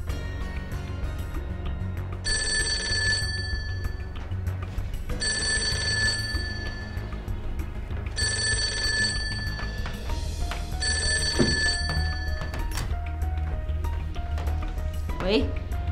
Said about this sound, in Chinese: 王先生的外线电话